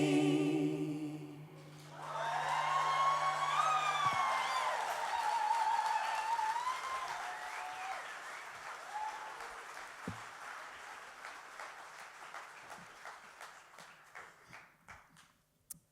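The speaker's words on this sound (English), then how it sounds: "your applause says what you thought about that" As the last sung notes of a church Easter musical production fade, audience applause swells and continues as a steady, moderately loud patter that gradually thins out toward the end.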